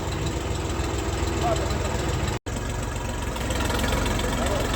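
A Xingtai 244 mini tractor engine runs steadily at idle during loading onto a trailer, a low, even rumble throughout, briefly cutting out for a split second midway.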